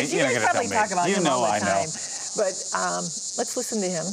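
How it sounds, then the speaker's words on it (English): A constant high insect buzz of a Linnaeus cicada runs beneath close speech, the droning call persisting evenly the whole time. "next we've got the Linnaeus cicada."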